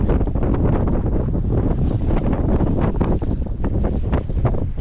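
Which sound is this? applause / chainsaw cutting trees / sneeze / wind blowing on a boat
wind blowing on a boat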